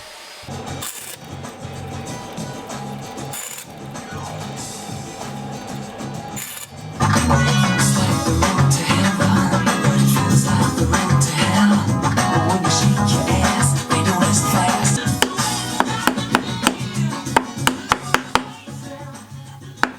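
A table saw cuts a groove in wood: a motor whirs up and runs loud and steady for several seconds, with the blade biting into the board before a few sharp clicks near the end.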